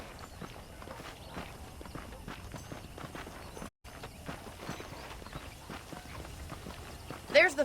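Horses' hooves clip-clop in Red Dead Redemption on the Xbox 360 version played on an Xbox Series S, a steady quiet patter of many hoof steps under a voice talking, with a brief louder sound near the end.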